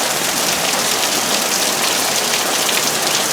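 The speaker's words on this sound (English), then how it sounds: "Oh, the summertime rains are upon us." Summer rain pours down steadily on a homestead, a dense, loud, unbroken hiss of drops with no voices over it.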